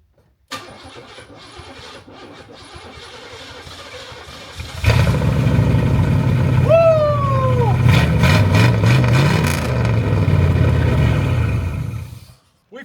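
A 1987 Oldsmobile with a 307 V8 and a worn timing chain cranks for several seconds, then fires loudly and runs with a rough, rumbling idle and revs before cutting off; a brief whistle-like squeal rises over the engine.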